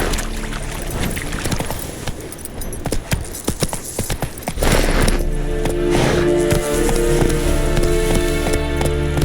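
Hooves of the horse Roach clatter in a quick, rhythmic gallop through The Witcher 3, irregular steps at first settling into a steady run with music and ambient game sound underneath.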